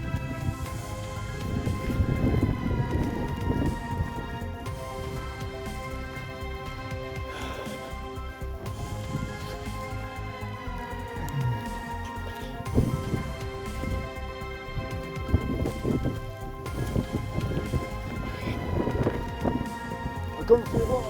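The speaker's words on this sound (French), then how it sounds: "J'aime pas la pluie." Rain falls steadily outside an abandoned HLM social housing block, a continuous wash of patter under a man's speech, with intermittent deeper rumbles and a tonal hum in the background.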